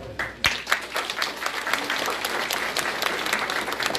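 Loud applause at a mass civil wedding ceremony in a Peruvian province: a crowd claps steadily and densely after a sharp opening hit, sustained for several seconds.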